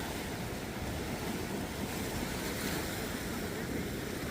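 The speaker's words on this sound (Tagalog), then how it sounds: "Maalon lang kasi ngayon kasi nga ayan, ulan." Rough ocean surf washes steadily onto a beach at Hilo, Hawaii, on a rainy day, a continuous broad roar of waves mixed with wind noise, fairly faint and with no voices.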